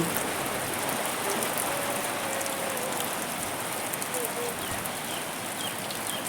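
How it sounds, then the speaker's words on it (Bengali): Rain falling steadily during a stormy afternoon, a dense continuous hiss of drops on surfaces, even and fairly loud throughout with no pauses. "বৃষ্টি হচ্ছে এখানে বৃষ্টি হচ্ছে"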